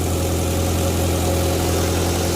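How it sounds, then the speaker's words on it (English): A 1959 Morris Minor Traveller woody station wagon, a barn find, idles with a steady, loud low rumble from its engine, close and even throughout with no talk. "Settled into an idle."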